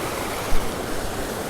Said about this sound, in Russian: Давайте вот так покажу вам водопад.